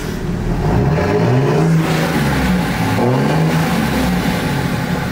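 Dodge Ram pickup engine revving hard, deep rumbling swells that rise and fall twice over a loud steady roar, heard close with no talk.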